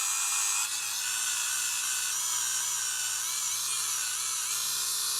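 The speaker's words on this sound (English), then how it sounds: "I'm going to try my usual trick, which is the Dremel, and very lightly approach the letter" A Dremel rotary tool whines in a steady, high-pitched, close drone, lightly grinding paint off the lettering on a Loewe-Opta Truxa 170 tube radio, with little change in pitch throughout.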